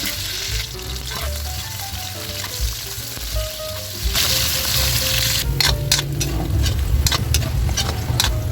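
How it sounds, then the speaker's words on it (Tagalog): Carrots and potatoes frying in hot oil for pork spare ribs caldereta, a steady sizzle that swells louder midway as more pieces hit the oil, with a few stirring clacks, close and without talk. "ipiprito muna natin yung ating carrots at patatas"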